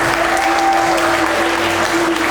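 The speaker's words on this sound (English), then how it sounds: "deserves a louder round of applause" Audience applause after a sponsor is introduced at a Kathak dance show in Dubai, a dense steady clapping that fills the whole moment, with a sustained tone running underneath.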